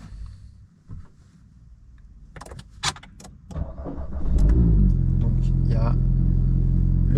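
An Alpine A110S sports car starts from inside the cabin. A few clicks and brief sounds come first, then the engine catches with a loud rumbling burst and settles into a steady, throaty idle.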